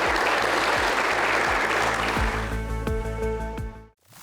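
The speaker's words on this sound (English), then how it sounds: "can we give them a round of applause and say thank you?" A crowd claps steadily for several seconds, a dense patter of applause that thins out and fades near the end.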